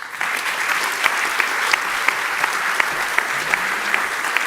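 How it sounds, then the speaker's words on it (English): Audience applause at an academic year opening ceremony as three guests leave the stage, a dense, even wash of clapping with occasional louder individual claps standing out. "So we give all three a round of applause."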